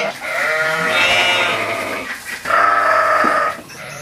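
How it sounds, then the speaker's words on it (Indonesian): Toy sheep gives two loud, close electronic bleats, one long wavering call followed by a shorter one after a brief gap, with no talk. "Wow, ada mainan domba biri-biri."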